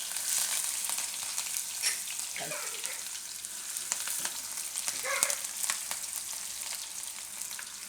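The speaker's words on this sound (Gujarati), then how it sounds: "તેલ આપણું ગરમ થઈ ગયું છે, એમાં આપણે પહેલાં નાખીશું મરચાં અને આદુ." Chillies and ginger sizzle in hot oil in a pan, a steady, soft crackling hiss with a few brief splashy bursts, close but fairly quiet, with no voices.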